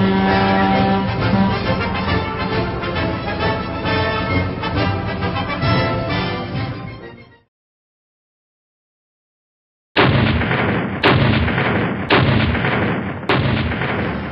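Naval ship's guns fired by a gunnery crew in 1951–1966 footage, loud booming rounds in rapid succession, then a silent gap before several more sharp, heavy blasts.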